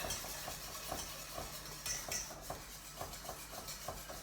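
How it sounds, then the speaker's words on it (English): A whisk beats thickening lasagne sauce in a pan, a quiet, steady run of rhythmic metallic clicks and swishes about twice per second over a low background hum. "make sure again it's all whisked in properly"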